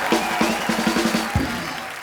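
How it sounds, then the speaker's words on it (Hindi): A studio audience on The Kapil Sharma Show applauds for Hrithik Roshan, clapping mixed with a brief musical sting and a few thumps, moderately loud and short. "जोरदार ताली हो जाए ऋतिक भाई के लिए"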